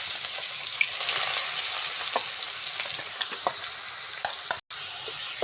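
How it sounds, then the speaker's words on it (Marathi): A ground spice paste of ginger, garlic, coriander and coconut sizzles steadily in hot oil, with a loud continuous fry and small pops and stirring scrapes, cooked for a village-style fish curry. "आता तेल गरम झालेलं आहे. आता हे वाटण टाकून घ्यायचं यामध्ये."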